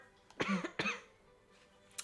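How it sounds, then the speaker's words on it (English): Two quick, close coughs in succession, followed by quiet and a faint click at the end. "coughing"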